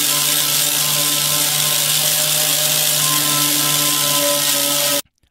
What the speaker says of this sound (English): I actually prefer using this angle grinder in disc setup more than using sandblasting or chemical methods to removing paint.